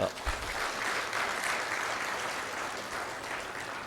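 Steady audience applause at an awards or thanks ceremony, a continuous wash of many hands clapping at moderate loudness and sustained throughout without a break.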